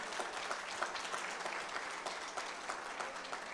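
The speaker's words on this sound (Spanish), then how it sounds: "Denle un aplauso fuerte al Señor" A church congregation claps together after a call to applaud the Lord, a steady dense patter of many hands lasting a few seconds, alone without speech.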